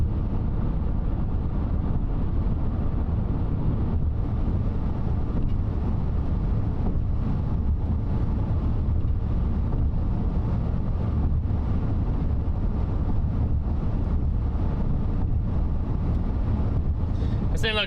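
Storm outflow wind buffeting a storm chaser's microphone during a strong South Dakota tornado threat, a loud continuous low roar of rumbling gusts throughout with no clear speech.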